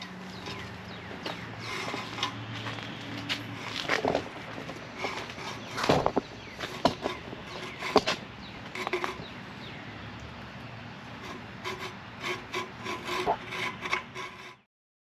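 A hacksaw cuts with steady, rhythmic back-and-forth rasping strokes over about fifteen seconds. The strokes are close and moderately loud, with a gloved thumb guiding the blade.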